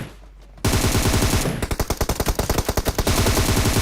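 Rapid automatic gunfire from the video game PUBG BGMI follows a short quiet stretch, fired in tight repeated bursts that sound loud and close.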